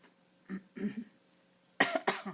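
A person coughs several times close up, a couple of softer muffled coughs followed by two louder, harsher ones.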